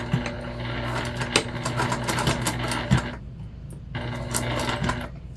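A sewing machine back stitching near a zipper on a small pouch wristlet, running in a fast steady mechanical patter up close, stopping briefly once before starting again.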